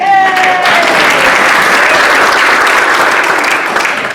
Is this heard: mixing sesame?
no